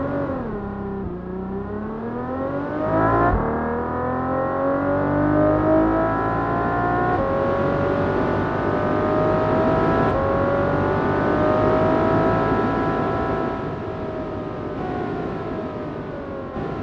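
Synthesized car engine revving, built in GameSynth procedural sound design software: a loud, steady engine tone climbs in pitch and holds near a high rev for about seventeen seconds, with no one speaking.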